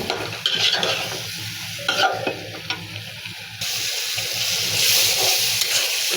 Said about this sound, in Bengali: এখানে চিংড়ি মাছ কষিয়ে নিয়েছি, এখানে দিয়ে দেবো মিষ্টি কুমড়ো, নেড়ে চেড়ে নেব